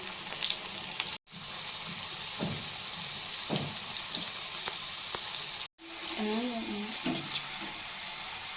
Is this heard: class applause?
no